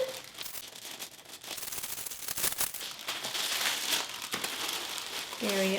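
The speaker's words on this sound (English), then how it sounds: "Tissue paper." Tissue paper crinkles and rustles steadily as a Chanel handbag is unboxed, close and busy, with soft handling noises throughout.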